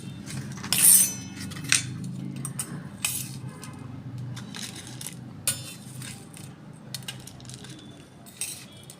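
A spoon mixing papad chaat with sev and chaat masala in a dish, with a scattered series of light metallic clinks and scrapes over a soft, quiet background.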